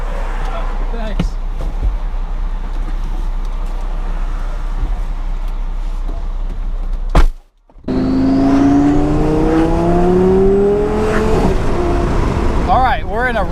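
A twin-turbo Lamborghini Gallardo making about 1106 wheel horsepower cruises a quiet back road, its engine droning steadily with road and wind roar, a brief dip mid-clip, then a rising note as revs climb.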